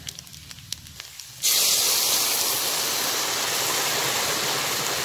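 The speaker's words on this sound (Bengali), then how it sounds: "জলটা খুব ফুটন্ত জল। এইখানে আমি দিয়ে দিব এবার জলটা।" Boiling water poured into a pot of rice for matar paneer pulao, a sudden loud, steady rushing hiss and splash that starts abruptly and keeps going close up, with no talk over it.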